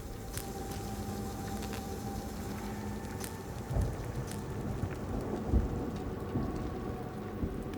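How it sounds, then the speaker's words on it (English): Steady rain with rolling thunder, a continuous wash of downpour and patter with a couple of low thunder rumbles swelling around the middle, no voices. "Do I have to stand on the rain?"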